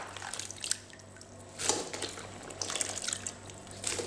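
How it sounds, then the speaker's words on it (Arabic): Dates being rinsed by hand in a bowl of water for freezing, with close, soft splashing and dripping in bursts, a louder slosh midway and more agitation toward the end. "بسرعة كده نغسله مرتين كده وبسرعة"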